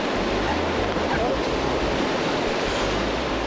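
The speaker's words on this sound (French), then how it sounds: "Les vagues!" Ocean waves break and surge on a beach in Madagascar, a loud, steady roar of surf with wind buffeting the microphone and low rumbling throughout, no clear speech.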